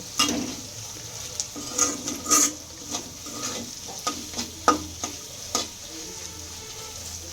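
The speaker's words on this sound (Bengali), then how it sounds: "আপনারা সুন্দর করে এটা ভেজে নেবেন" Spaghetti with egg fries in a pan, a steady sizzle broken by repeated scraping stirs and light utensil knocks against the pan, close and alone.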